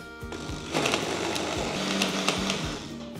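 An electric mixer grinder blending a cooled roasted whole-spice mixture with a little water into a paste, a loud close whir with rattling pulses and changing pitch as it runs.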